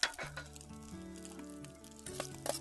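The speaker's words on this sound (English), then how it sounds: "Place it on my pan." Salmon searing in a hot pan gives a steady close sizzle with a few clinks and crackles, while a low tonal hum runs underneath throughout.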